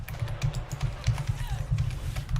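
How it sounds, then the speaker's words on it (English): Loud computer keyboard typed on hard and fast, a dense run of clicky keystrokes close to the mic over a steady low hum, with no clear talk during the burst. "It's a very, very, very loud keyboard."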